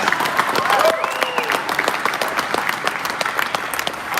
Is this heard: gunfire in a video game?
no